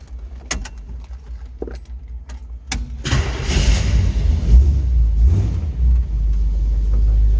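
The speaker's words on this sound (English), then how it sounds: "Let's go ahead and fire this up." Keys jangle briefly, then the engine of a 1940 Chevrolet pickup street rod cranks and catches, settling into a steady, loud low rumble at idle.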